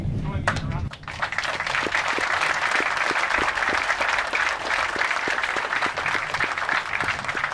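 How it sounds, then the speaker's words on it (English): Sustained, dense round of applause from a crowd at a Marine Corps command transfer ceremony, starting after a brief spoken lead-in and holding steady and loud to the end, with occasional individual sharp claps standing out. "Please, everyone, if you join me in a round of applause."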